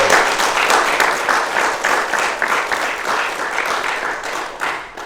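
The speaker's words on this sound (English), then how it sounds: "give yourselves a round of applause" An audience at a Pokémon GO competition event claps continuously, a dense, loud wash of applause holding steady throughout with no pauses.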